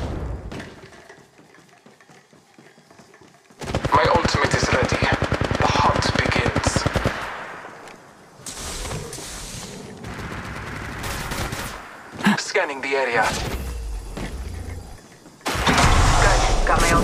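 Bursts of automatic weapon fire in the mobile game Apex Legends Mobile, rapid repeated shots in loud stretches separated by quieter gaps, with game voice lines and effects mixed in.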